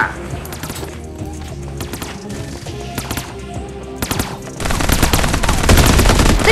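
Rapid gunfire exchange in the mobile battle royale game Farlight 84, dense automatic bursts layered over game effects, swelling louder and more intense in the final seconds.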